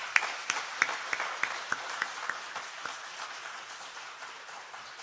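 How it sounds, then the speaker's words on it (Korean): Applause from a church congregation at a 70th-anniversary ordination and retirement service, individual claps standing out at first and then thinning into a softer, moderately distant patter over about five seconds. "우리 뜨거운 박수 해주시기 바랍니다"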